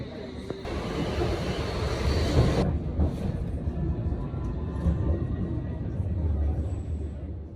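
A London Underground metro train rumbles along during a ride, a loud steady low roar with a brief high hiss early on, and no talk heard.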